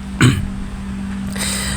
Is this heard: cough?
yes